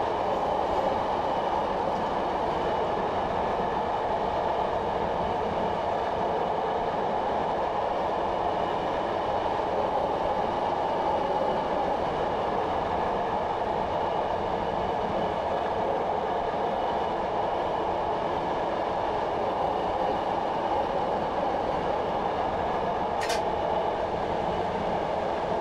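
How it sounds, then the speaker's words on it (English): A Class 421 electric multiple unit coasts in Train Simulator 2018 on the Tonbridge to Hastings line approaching Crowhurst, giving a steady, loud rolling rumble with faint track clatter throughout and no speech. "So I'm just going to allow the train to coast here."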